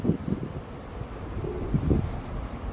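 Steady outdoor wind with gusty microphone buffeting, heard alone on a balmy summer day just outside a church in the old town of Calw, Baden-Württemberg, Germany.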